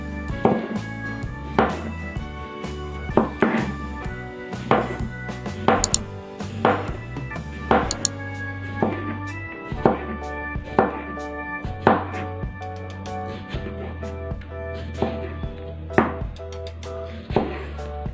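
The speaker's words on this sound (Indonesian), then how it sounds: "Selanjutnya timun aku potong-potong dan dibuang ujung-ujungnya. Potong kembali tipis-tipis." Knife thinly slicing a cucumber on a cutting board: a long series of sharp, evenly spaced chops against the board, loud and close, alongside faint background music and no talking.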